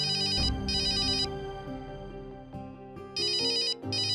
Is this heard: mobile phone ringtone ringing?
yes